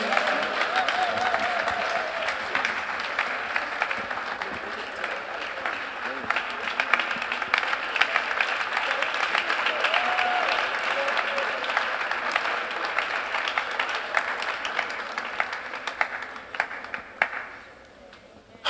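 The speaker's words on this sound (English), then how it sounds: "can we give Mommy a round of applause?" A church congregation applauds someone speaker after a marriage talk, a dense, sustained round of clapping from many hands that holds steady, then tapers off and drops out near the end, with faint voices under it.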